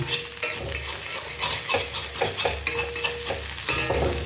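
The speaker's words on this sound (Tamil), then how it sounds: "கொஞ்சம் அந்த சூடுலேயே இன்னும் கொஞ்சம் வதங்கும்" Potatoes sautéing for a pepper fry in a hot kadai, with a loud continuous sizzle and repeated rhythmic scrapes of a spatula stirring close by.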